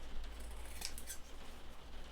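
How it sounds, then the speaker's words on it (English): A couple of quick, crisp snips of large scissors cutting a paper flap off a journal close by, set against a low steady hum in a quiet room. "we're going to have to cut that flap off. Big scissors."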